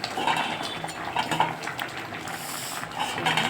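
A metal cooking pot clattering as rice is put on to cook beside a simmering egg curry in a home kitchen, with several light clinks and knocks over a soft background hiss.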